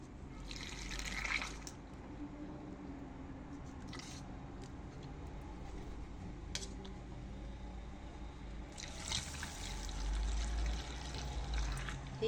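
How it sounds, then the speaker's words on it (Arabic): Water is poured into a jar of pickled peppers in a home kitchen, with two short splashy pours separated by quiet dripping and faint handling noises, close and moderately soft. "تلوحي الماء حتى تتعمر."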